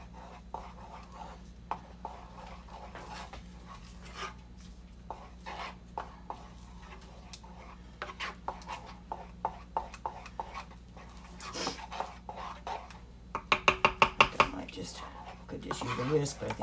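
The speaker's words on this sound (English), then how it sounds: "I'm going to stir this all in here." Stirring a vegan pumpkin pudding mixture in a bowl, repeated soft scraping taps that pick up into a quicker rhythmic series near the end, close and moderate in level under a constant low hum.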